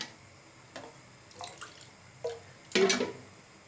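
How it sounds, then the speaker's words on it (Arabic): Water poured into honey syrup in a pan, heard as a short splashing pour near the end after a few faint drips and taps, close and fairly quiet with no talk. "نزيدو شوية الماء"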